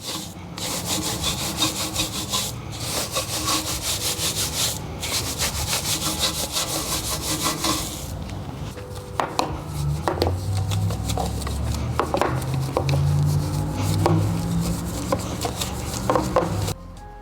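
A brush scrubs the inside barrel of a car wheel between wide spokes, a steady close rasping rub for the first half, then wetter intermittent scrapes and knocks.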